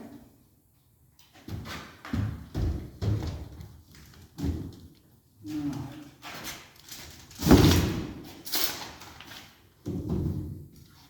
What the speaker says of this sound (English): All right, so Oscar, go and bring the door up in.